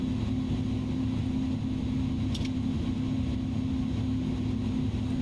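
The engines of an Airbus A310 in a flight simulator game run as a steady, loud drone with a strong low hum and constant broadband roar. A faint brief chirp cuts in partway through.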